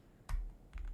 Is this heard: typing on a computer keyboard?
yes